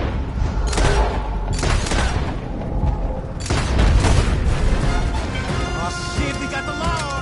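Gunfire and explosions in the video game Red Dead Redemption 2 during a chase at a blocked road: loud, dense, continuous booms and shots layered over one another, with brief voices in the mix.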